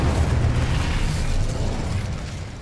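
A roaring, sustained fiery blast from the Incendio fire spell in Hogwarts Legacy, a loud, dense rumble lasting a couple of seconds and slowly easing off, with no talking.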